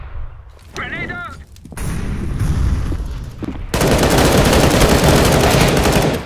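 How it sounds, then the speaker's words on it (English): A grenade goes off in a CS:GO Wingman match: a loud, sustained broadband blast fills the second half, following a stretch of game noise and brief chirping effects. "Grenade out."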